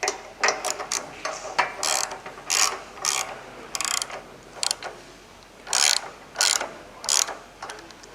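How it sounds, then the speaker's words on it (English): A jack screw is tightened to tension the belt on an IntelliTrak 500 Series overhead conveyor. It gives close, loud ratcheting clicks in short irregular bursts with brief pauses between, and no talking. "As you tighten the jack screw, you'll see the belt will start to have tension."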